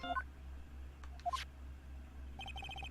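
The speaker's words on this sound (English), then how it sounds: "Why is my phone? And what is with this stupid sounding ringtone?" A short electronic ringtone from a cell phone in the Phoenix Wright: Justice For All video game, with quick rising beeps, a brief pause, then a rapid run of repeated chirpy tones over a low steady hum.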